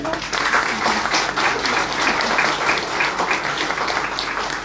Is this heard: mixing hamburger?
no